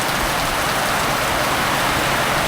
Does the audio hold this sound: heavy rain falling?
yes